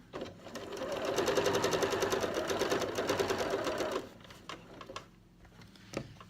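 A sewing machine stitches over fabric piping in a fast, even needle rattle for about four seconds, then stops, followed by a few soft clicks and handling sounds.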